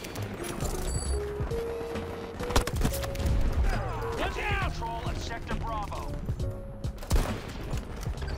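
Sniper rifle shots and bursts of gunfire in Battlefield 2042 play throughout as a dense, continuous game mix with scattered sharp reports and mechanical clatter, and voices are heard underneath.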